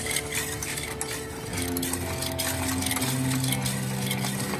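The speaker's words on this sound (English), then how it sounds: "And that is my homemade piston ring sizing gap grinder." A homemade piston ring gap grinder built from shop scraps runs steadily, its motor whine and rattling hum holding at a constant close level with rising tonal drones partway through and no talk.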